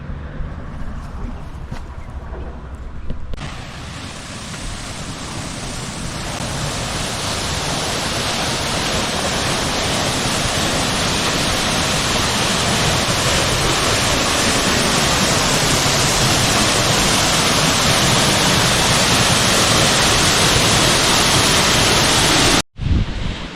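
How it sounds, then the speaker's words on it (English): A powerful waterfall on the Panorama Route in South Africa roars loud and steady, a broad continuous rush that swells after a quieter start and continues without a break. "Now we are here at Maria Shires waterfall."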